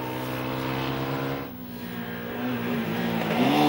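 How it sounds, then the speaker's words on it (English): A Yamaha YZF 125 R two-stroke motorcycle engine idles and revs with a buzzy, harmonic drone, briefly dipping then climbing in pitch toward the end, close and steady. "We have a tendency to dislike the sound these little two-stroke engines make"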